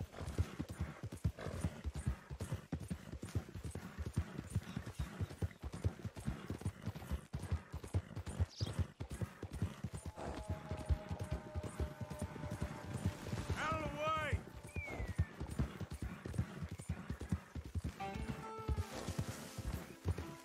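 A horse in Red Dead Redemption 2 clip-clops steadily at a walking pace, and its hooves stay audible throughout. Partway through it gives a clear whinny, and a few tonal game sounds rise over the footfalls.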